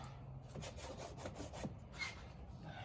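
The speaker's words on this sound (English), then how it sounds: "Pulling that clip." A clip puller works plastic fender clips loose on a Turbo RZR, making a rhythmic run of close scraping and rubbing strokes with short gritty pulses, fairly quiet overall.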